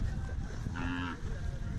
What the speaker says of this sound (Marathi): अशा प्रकारचे बैल आलेले आहेत